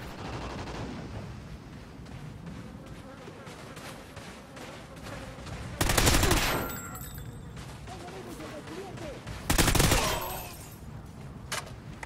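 Bursts of gunfire in a shooter video game, steady rapid shots under a player talking, broken by two loud, dense volleys of automatic fire close by.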